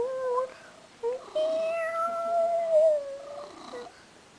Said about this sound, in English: Devious kitty.